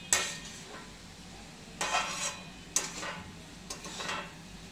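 Aloo methi sabzi, a potato and fenugreek dish, is being stirred in a pan with a metal spoon, giving four distinct scraping clinks at a steady pace over a faint sizzle. There is no talking.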